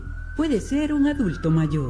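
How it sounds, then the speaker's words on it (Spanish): A steady siren tone from an ambulance in a radio advertisement sounds behind a narrator's voice, holding one pitch under the speech for nearly two seconds. "Esa es una ambulancia."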